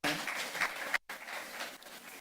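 Dense, steady applause fills a political event of the New Patriotic Party, with voices mixed in and a brief cut near the middle before the clapping resumes.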